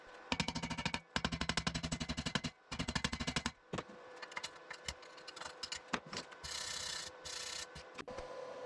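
Electrode (stick) welding on a homemade snorkel for a 1994 Ford Explorer, with bursts of loud crackling buzz in rapid stuttering runs separated by brief pauses, then irregular sputtering and hissing arcs, close up and with no talk.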